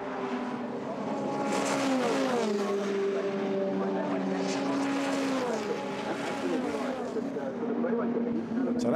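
A Formula Renault 2.0 race car lapping Silverstone through Copse and the Becketts esses, its engine note climbing and dropping through gear changes, loud and continuous beneath a commentator's voice.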